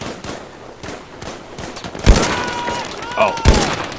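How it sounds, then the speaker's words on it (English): Gunfire in a video game at a tank, two sharp loud shots standing out over background game noise, with voices talking faintly. "You're shooting at it."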